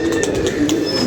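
Pigeons coo softly and continuously at close range, a steady low murmur with a few faint higher chirps mixed in, and no talking.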